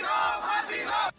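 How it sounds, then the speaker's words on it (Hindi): A crowd of lawyers protesting at Saket Court in Delhi, many voices shouting together in a loud, dense chant that breaks off abruptly at the end. "साकेत कोर्ट में काफी देर तक गहमागहमी मची रही। वकील विरोध करते रहे।"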